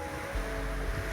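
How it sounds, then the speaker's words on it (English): Rough seas slapping and washing over a small dinghy drifting with a dead motor in strong wind, a close low surging rush with heavier thuds of water hitting the hull. "The waves were thrashing over the dinghy."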